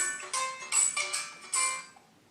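A broken mobile phone rings with an incoming call, a short melodic ringtone of several bright bursts, clear and nearby, then fades out.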